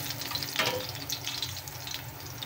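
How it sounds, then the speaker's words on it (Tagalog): Garlic sizzles in a hot pan as it browns, a steady close crackle and hiss with no voices over it. "Bawang muna yun ako, tapos pag mag-brown na, saka na natin isunod yung sibuyas mga idol."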